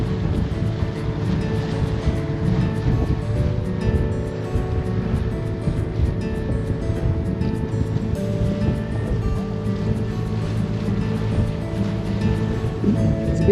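Steady, heavy wind roars on a gloomy day on Sydney Harbour near the Opera House and Harbour Bridge, a constant dense rush with no breaks, loud and close throughout.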